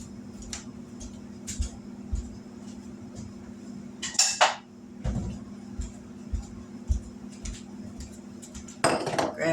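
Dishes clatter in a kitchen as a bowl and ladle are grabbed, with sharp clinks of ceramic and metal, a louder clattering burst midway and again at the end, over a low steady hum.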